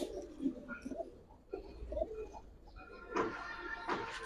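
Pigeons, racer and colour-bred giribaz birds, coo softly in a series of low throaty calls. Other faint birds chirp in the background, and there is no talk.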